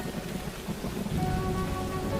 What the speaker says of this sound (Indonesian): Kali ini, hujan berbaik hati mengguyur semakin deras.